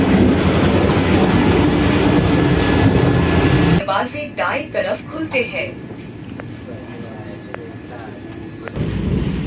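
Interior of the 22895 Vande Bharat Express running at high speed near 130 km/h: loud, dense rumble and rush that cuts abruptly to a quieter cabin with voices, then the roar returns at the end.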